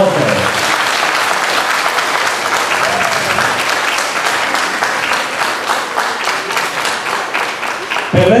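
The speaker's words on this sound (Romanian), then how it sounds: "Aplauze, aplauze," Loud, dense audience applause for graduates at a nursing school oath ceremony, sustained steady clapping from a large crowd lasting several seconds without a break.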